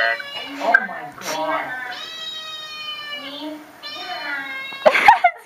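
A female cat meows repeatedly indoors, loud drawn-out tonal cries with a few shorter calls, while people talk and react around it.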